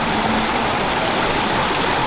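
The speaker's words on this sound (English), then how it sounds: "we took a moment to enjoy the stream that was a wonderful juxtaposition to the food market" A city stream in Seoul flows steadily beside a food market where stepping stones cross it, giving a continuous, close, broadband rush of running water with no voices.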